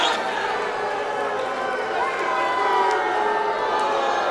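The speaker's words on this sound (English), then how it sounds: "Holidead soaking in the jeers, the boos, the lack of adulation from this live crowd here at the Velasco Theater" A live women's wrestling crowd at the Velasco Theater fills the room with dense, steady jeering and booing, a continuous loud roar of many voices with scattered shouts rising above it.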